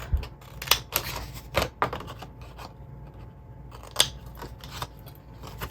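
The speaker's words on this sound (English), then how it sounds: "And then with this one, we're going to cut that off." Scissors snip off a piece of paper while crafting a treat holder, a series of crisp, close cuts in an uneven rhythm with quiet pauses between them.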